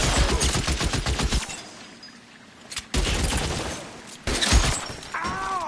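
Gunfire in the L.A. Noire video game crackles in loud rapid bursts at the start, drops to a lull, then resumes with more rattling volleys and a ringing ricochet near the end.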